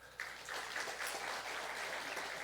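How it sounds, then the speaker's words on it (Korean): An audience applauds to welcome a guest pastor at a university chapel service, a dense, steady clapping that begins abruptly and fills the short stretch at even loudness. "여러분 환영의 박수 한번 할게요."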